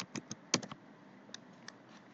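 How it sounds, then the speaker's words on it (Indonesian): Quiet typing on a computer keyboard: a few soft, irregular key taps, closely spaced at first and then sparser, with no voices. "Jadi nanti di sini tinggal diketik aja first meeting."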